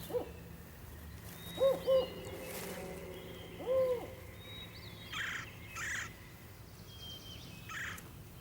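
A spotted owl hoots in a western forest, giving several low, soft two-part hoots at a moderate distance against a quiet woodland background with faint higher calls.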